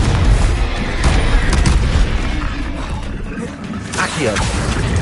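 A Confringo spell explodes in the Hogwarts video game: loud booming blasts with crackling impacts, a strong burst at the start and another near the four-second mark, heard while a voice speaks.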